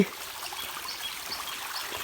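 Water from a waterfall at Ban Khao Phluang, Bueng Sam Phan, Phetchabun, runs in a steady, even rush of stream flow with no pauses, moderately loud and unbroken throughout.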